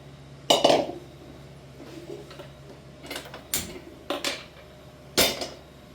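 A thick, heavy-bottomed kadai is set on a stove in a home kitchen, making a few close metallic clanks and clinks, spaced irregularly over a low steady hum.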